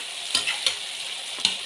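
Tomatoes frying in hot oil in a pan, a bright continuous sizzle with three sharp stirring scrapes spread across it.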